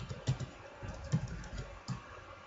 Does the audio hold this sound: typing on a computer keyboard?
yes